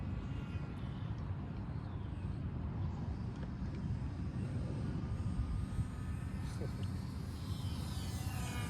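A small RC airplane, a UMX Evo or UMX Conscendo, drones steadily overhead through wind noise, its high engine whine faint and continuous for the whole stretch.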